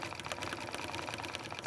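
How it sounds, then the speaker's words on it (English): A sewing machine stitches next to an appliqué on a Baltimore Album quilt block, a steady rapid mechanical whirr with fine rhythmic needle clatter, close and continuous. "I am just stitching right next to that."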